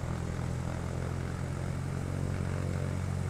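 Propeller plane engine from Roblox Vehicle Simulator, a steady, loud droning hum with a low buzzing tone that holds constant throughout, close by and alone without any talk.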